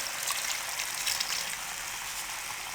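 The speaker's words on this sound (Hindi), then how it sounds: "अब इसमें हम 1 कप पानी शामिल कर देंगे।" A steady wash of hissing, bubbling water fills the clip as a cup of water goes into frying chicken in a cooking pot, continuous and fairly soft throughout.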